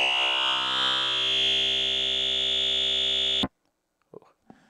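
Harsh, buzzy synth tone from the Sequential Pro 3 using digital wavetable oscillator 27, 'static', sustained loud and steady for about three and a half seconds before cutting off abruptly, followed by brief faint sounds.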